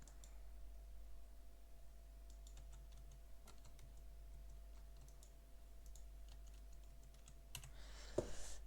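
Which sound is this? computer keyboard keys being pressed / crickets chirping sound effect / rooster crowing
computer keyboard keys being pressed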